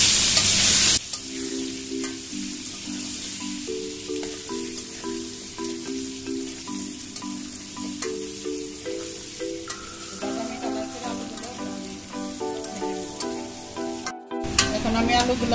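Potatoes frying in ghee in a pan give off a steady, close sizzle that runs the whole way, partly under background music.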